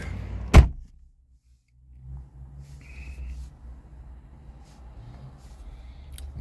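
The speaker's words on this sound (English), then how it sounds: "open the door" Door of a 2017 Alfa Romeo Giulia shuts with one sharp, close thud near the start, followed by a brief hush and then a low electrical hum and faint whirring from the car.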